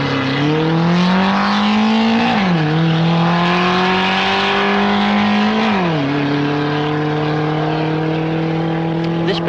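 A Hillman Avenger GT drag racing car at Silverstone in 1973 accelerates hard, its engine note climbing steadily through two gear changes, loud and close for the whole run with no pauses.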